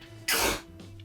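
A single abrupt sneeze bursts out close by in a quiet podcast room, loud but lasting only a moment before fading into near silence.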